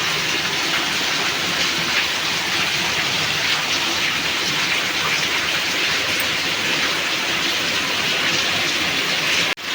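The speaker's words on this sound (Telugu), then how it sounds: "చూసారా ఎంత పెద్ద వాన పడుతుందో?" Heavy rain pours down steadily outdoors, a dense, even roar of drops close by that holds without pause for the whole stretch and cuts off abruptly at the end.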